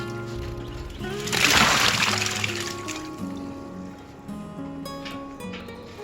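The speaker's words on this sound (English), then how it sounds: "we're ready to drop the corn down into the cold water to stop the blanching" A splash as blanched corn drops into cold water, followed by sloshing and faint trickling, with a steady hum in the background.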